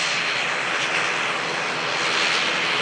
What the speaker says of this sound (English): See the Ryanair about to touch.